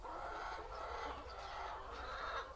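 Laying hens kept in a pen in front of a cattle stall on a farm cluck steadily and continuously, with overlapping calls from several birds at close range.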